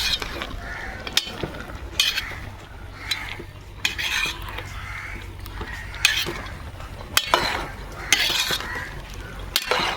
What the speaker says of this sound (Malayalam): നമ്മളൊന്ന് അടപ്പ് മാറ്റി വെച്ചിട്ട് നല്ലോണം ഒന്ന് ഇളക്കി കൊടുക്കുന്നുണ്ട്.